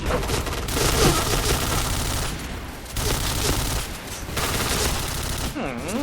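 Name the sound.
gunfire in the video game Point Blank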